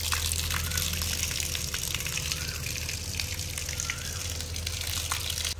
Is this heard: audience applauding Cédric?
no